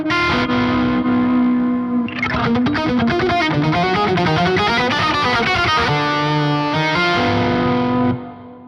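Octave fuzz lead guitar tone through Archetype Rabea, a heavily distorted, buzzing melodic line with sustained notes and rapid bends, loud and dense, playing alone without any voice.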